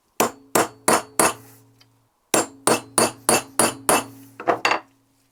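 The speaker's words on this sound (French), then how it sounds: "le marteau, le pointeau et on bloque la vis" A hammer strikes a center punch to lock a screw on Ducati 900 cylinders, ST2 944 parts, giving four sharp metallic taps, a pause, then a quicker run of about eight more ringing blows, close and alone.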